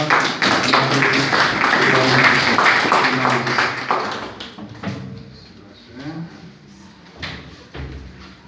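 A church congregation at a Sunday service applauds, a dense burst of clapping that fades after a few seconds and leaves scattered claps and murmurs, with voices in the room.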